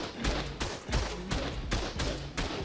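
Heavy turrets firing in the survival game ARK, a rapid regular series of loud booming shots, about seven in under three seconds, each with a deep thud and sharp crack.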